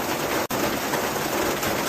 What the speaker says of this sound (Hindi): बारिश का पानी ढाबे की छत से टपकने लगता है